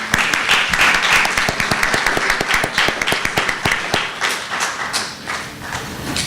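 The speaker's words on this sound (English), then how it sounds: "Please give her a round of applause" Audience applause at an evening event, a dense, steady clapping from a room full of people that holds strong, then thins and fades toward the end.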